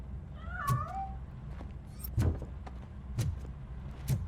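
A cat meows once in Robocop: Rogue City, a short rising-falling cry early on, followed by several dull thuds spaced about a second apart against a quiet background.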